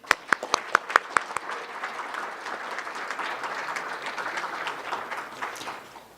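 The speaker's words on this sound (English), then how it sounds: "Let's have a round of applause to recognize all of our recipients" Audience at an academic recognition ceremony applauds the award recipients, starting with a few sharp individual claps that swell into sustained, moderately distant clapping before fading.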